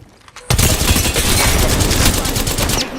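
Sustained rapid gunfire in a first-person shooter match, bursts of automatic fire and shots layered densely and loudly after a brief quiet start, continuing for nearly the whole stretch.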